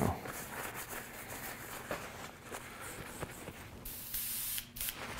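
Spray paint hissing from an aerosol can onto a Bo-Katan helmet, a steady broadband spray running through the whole stretch with a few short pauses and a brighter, louder burst near the end.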